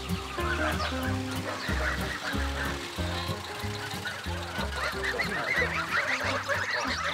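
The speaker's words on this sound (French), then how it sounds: "Là c'est les oies de Touraine." A flock of Touraine geese honks and clucks in a busy, overlapping chorus, close by, with some quieter farmyard noise and faint voices in the background.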